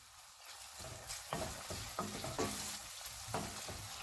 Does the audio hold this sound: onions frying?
yes